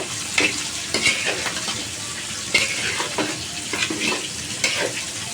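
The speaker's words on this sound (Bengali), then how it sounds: "দেখো সবজিটা কিন্তু একেবারেই কষিয়ে ফেলছি আমি মশলার সাথে একেবারে মাথা মাথা করে ফেলছি" Chopped vegetables stir-fried with spices in a hot pan for a bitter gourd and fish dish, sizzling steadily with repeated scraping stirs close by and no talking.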